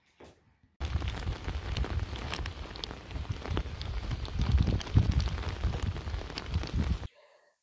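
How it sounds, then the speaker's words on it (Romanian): Rain falls steadily outside a house, a dense, even patter with scattered sharper drops that holds for several seconds, then cuts off abruptly. "Cred că începe iarăși să plouă"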